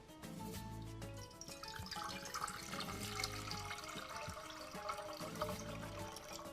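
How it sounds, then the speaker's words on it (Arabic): Water poured into a cooking pot, a steady splashing stream with bubbling and liquid clatter, close and continuous for several seconds. "ندير نص ريتلا ماء."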